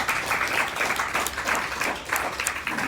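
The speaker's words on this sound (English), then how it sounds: "Please give them all a round of applause." Sustained applause from an audience, a dense steady clatter of many hands clapping at once, fairly close and even throughout.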